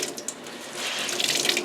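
Water runs steadily from a household tap left on during below-freezing weather to keep attic pipes from freezing, a continuous close hiss and splash that swells slightly louder toward the end, with no talk.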